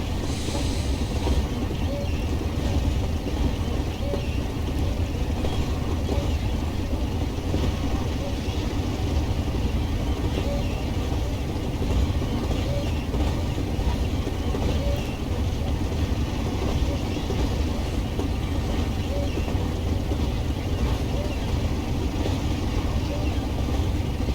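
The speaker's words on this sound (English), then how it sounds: "listen to the nice sound that the train is making. Don't know if you can hear on the stream this very low droning noise" A classic British diesel train cruises at a steady speed in Train Sim World, a constant low drone with rumbling undertones that holds evenly throughout, loud and unbroken.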